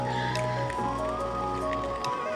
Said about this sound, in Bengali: এবারে কিন্তু এটা পুরোটাই ভালোভাবে নেড়ে নেবো